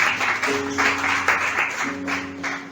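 A church congregation claps together, a broad wash of hands applauding in uneven surges with a faint voice or tone running underneath.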